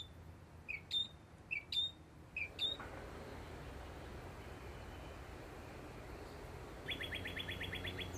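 Small migrating songbirds chirp in a grove of live oaks on an island, a few quick bright calls close by at the start, then a brief rapid trill later over steady outdoor hiss.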